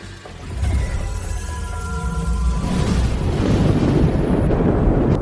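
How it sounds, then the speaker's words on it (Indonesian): A man blows himself up in a dubbed martial-arts drama: a rising roar builds into a heavy, sustained rumbling blast, loud and continuous with deep low-end boom. "Awas dia akan meledakkan diri."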